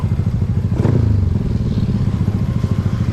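A stock 200cc-plus motorcycle engine runs close by with a loud, rapid, pulsing idle chug, a brief clattering knock near the start of the stretch.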